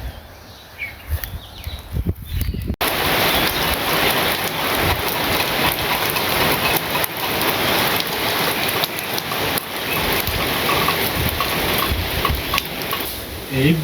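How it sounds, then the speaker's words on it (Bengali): Rain pours down in a rural Bangladeshi village during jute harvest season, a dense, loud, continuous hiss that starts abruptly after a few quieter seconds and stays steady throughout. "এই বৃষ্টি"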